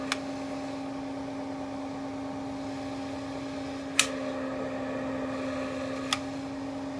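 A newly installed forge blower runs with its air valve open, giving a steady, moderate hum with a constant low tone and an even airy rush throughout, broken by two brief sharp clicks.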